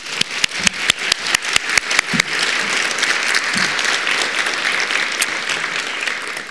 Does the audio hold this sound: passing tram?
no